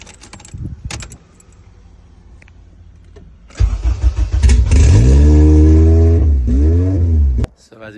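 An engine-swapped Honda with a K-series swap cranks and fires up, then revs in a loud sustained roar with rising and falling pitch before cutting off; keys jangle and brief sounds precede it.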